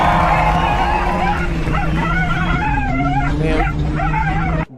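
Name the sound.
dog whimpering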